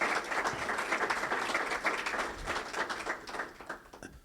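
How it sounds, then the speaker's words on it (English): An audience applauds panelists at a biotech growth and commercialization event, a steady sustained round of clapping from a full room that holds level before thinning slightly toward the end. "So give them a round of applause"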